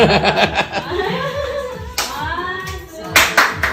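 Hands clap in quick bursts at a family birthday party in Dubai, mixed with chuckles and voices talking and laughing over the applause.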